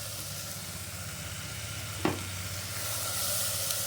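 Small pieces of one chopped carrot sauté in oil with a steady, even sizzle. There is a single sharp clink partway through and a faint low hum underneath.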